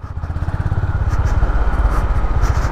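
Honda CB 350 H'ness motorcycle riding slowly in second gear, a close, loud low-pitched engine thrum with an even pulsing beat and no talking.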